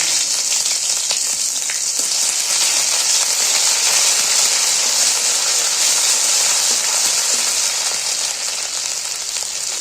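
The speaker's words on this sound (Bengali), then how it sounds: "এবার এর মধ্যে আমি 2 কোয়া রসুন আর অল্প একটু সামান্য আদা পিষে রেখেছি, তো সেটা এর মধ্যে ছেড়ে দিলাম।" Crushed garlic and ginger fry in hot tempering oil, a loud, steady sizzle that holds evenly without pause.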